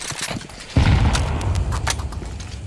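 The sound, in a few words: grenade explosion and gunfire in a video game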